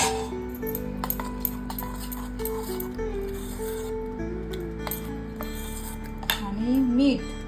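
Chilli, tomato, onion and coriander being stirred together in a bowl for rice appe, with a spoon clinking and scraping against the bowl in irregular taps while someone talks over it.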